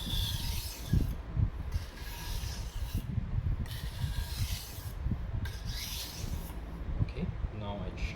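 A knife with minor chips along its edge is sharpened with light strokes, a soft rhythmic rasping that repeats about once a second, close and quiet.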